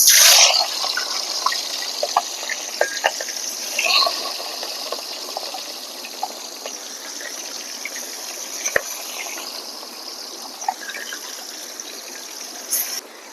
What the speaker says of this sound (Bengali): আমার তেলটা গরম হয়ে গেছে। এবার আমি মাছগুলা ভেজে নেব।